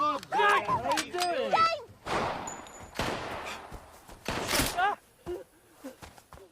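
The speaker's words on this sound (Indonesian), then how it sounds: "Gabby terus menembaki James secara membabi buta" Gunshots from a pistol crack out in bursts among loud shouting and screaming voices in a film scene, sounding close and chaotic.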